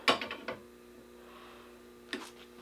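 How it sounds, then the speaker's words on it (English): Torque wrench on a calibration rig, its mechanism giving a quick burst of ratcheting ticks at the start, a lone click near half a second, then quiet before another short clicking burst near the end. "Take my torque wrench"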